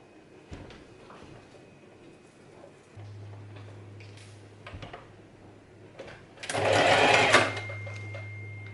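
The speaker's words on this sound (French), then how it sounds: "je vais commencer à piquer à 1 cm du bord" A sewing machine stitches a heart-shaped cushion 1 cm from the edge. A few clicks and handling noises come first, then a steady low motor hum, with a louder whirring burst near the end.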